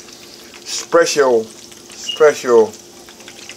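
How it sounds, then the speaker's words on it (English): Steady sizzling of chicken frying on low heat in a pan runs throughout, with a voice speaking briefly over it twice. "Got in a frying pan right now, frying low."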